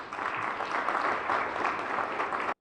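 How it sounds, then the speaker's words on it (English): Sustained applause from an audience welcoming Team Botswana back from the games, a dense steady patter of clapping hands that lasts a couple of seconds and then cuts off abruptly. "A round of applause for our team."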